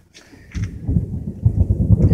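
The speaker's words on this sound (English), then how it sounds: "And you can hear the thunder and the storm." Thunder from a storm, heard from inside a hut, rumbles low and heavy, building into a close, loud roll that swells through the short span.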